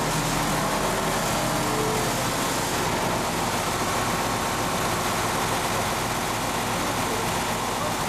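A generator engine idles at about 800 to 900 RPM under no load, producing a loud, steady, unbroken low drone with a constant mechanical hum.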